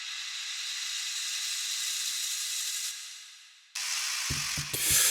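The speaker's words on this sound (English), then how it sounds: "Another sweep here." A filtered white-noise sweep for progressive house rolls steadily and loudly for about four seconds, dips as it closes, then bursts back in brighter, with low thumping hits entering near the end.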